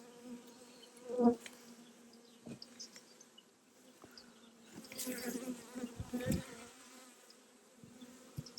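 Caucasian honeybees buzz steadily around an opened hive during an inspection, a close, continuous hum with brief louder swells as bees pass near, no voices present.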